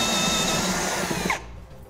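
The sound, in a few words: step drill bit drilling holes in truck bed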